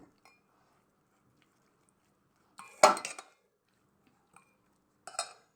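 Spoon stirring eggplant salad in a dish, heard as two short bursts of clinking and scraping separated by near silence.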